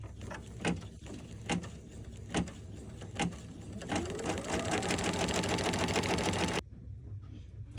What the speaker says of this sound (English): go ahead and run the next step of the design to tack that down in place